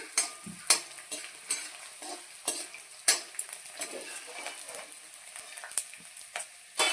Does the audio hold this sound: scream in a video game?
no